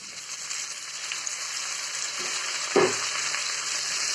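Roughly cut tomatoes sautéing in a pan with ginger garlic paste for paneer butter masala: a steady, close sizzle and hiss, with a soft stirring scrape near the middle.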